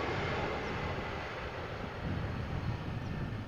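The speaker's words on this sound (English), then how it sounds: "this was also a very satisfying landing in terms of the reverse thrust usage" An airliner landing at Amsterdam Schiphol Airport with reverse thrust, a steady broad roar heard from a distance that swells slightly toward the end, with wind buffeting the microphone.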